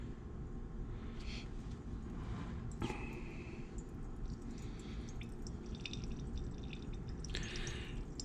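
Fluid drains from a 2004 Suzuki LTZ250 ATV, a faint steady trickle and drip under a constant low background hum, with a few brief clinks.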